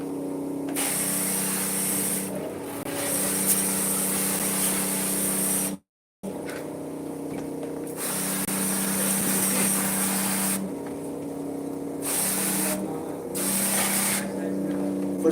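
A high-pressure water spray cleans the blower of a split air conditioner indoor unit, a loud steady hiss running almost continuously with a brief cut near the middle, while a low machine hum sits underneath.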